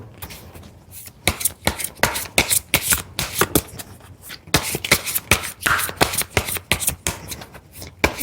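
Tarot cards shuffled by hand at close range, a rapid series of crisp riffling bursts and soft slaps that repeat unevenly, with no talk over them.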